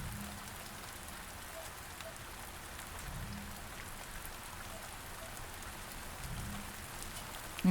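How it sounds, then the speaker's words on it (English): Steady rain pours down in the Space Engineers game world, a continuous soft hiss of falling drops with a low rumbling bed underneath, moderately quiet and unbroken, with no voices. "We're watching the rain."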